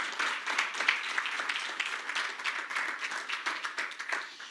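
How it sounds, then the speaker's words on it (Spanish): A church congregation applauds, many hands clapping steadily and evenly for several seconds at moderate distance, a sustained patter of claps with no speech over it. "Give an applause to God."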